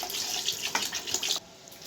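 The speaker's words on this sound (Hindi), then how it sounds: "अब इसमें पानी को शामिल कर देंगे।" Water is poured into a pot of aloo gosht, a potato and meat curry cooking in ghee, making a steady close splashing rush that stops sharply near the end.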